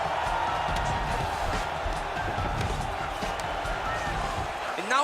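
An arena crowd in the UFC 4 fighting game roars steadily through a middleweight bout, a loud continuous wash of cheering and noise with scattered thuds, ending in a brief rising voice-like sweep.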